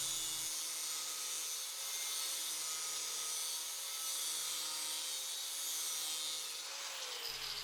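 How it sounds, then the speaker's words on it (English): An angle grinder fitted with a cutting wheel slices through a metal bracket for a custom S550 Mustang GT engine cover, a loud, sustained high-pitched shriek with a steady motor whine that shifts slightly as the cut finishes. "grab my grinder with a cutting wheel, and we'll go ahead and cut that right off"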